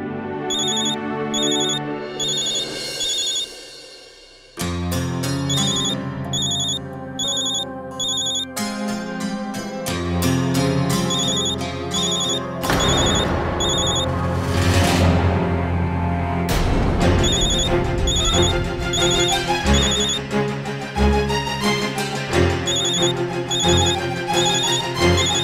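An incoming phone call rings as a bright electronic ringtone melody, repeating loud beeping patterns over a musical backing that swells and continues for a long stretch, with no voices.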